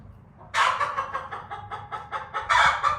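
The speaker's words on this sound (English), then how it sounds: "For those of you who don't have chickens, my theory on this squawking is typically when they start that" A hen squawks loudly and repeatedly in a rapid, rhythmic cackle close by after laying an egg, with a few louder bursts near the end.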